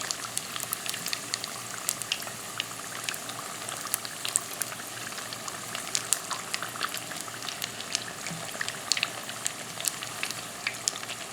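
Jalapeno bacon wonton poppers fry in a pan of hot oil on the stove, giving a steady, close bubbling sizzle with crackling pops throughout and no voices.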